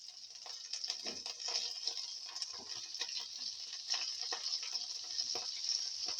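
Onions sautéing in a pan for a chicken fenugreek leaf rice pilaf, a steady close sizzle with soft crackles and occasional stirring scrapes running throughout, with no voice over it.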